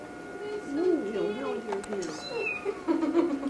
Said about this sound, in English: My little cat.